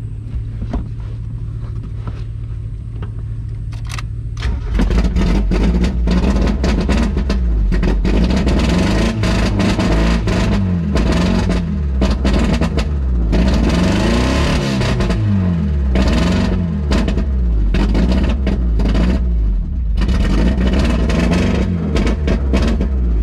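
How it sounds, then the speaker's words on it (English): A Mazda Miata engine with its exhaust chopped off at an open header idles quietly, then runs loud and raspy with rough, uneven revving and a harsh, gnarly drone lasting throughout. "the exhaust is just chopped off, so that's why it sounds so loud and gnarly"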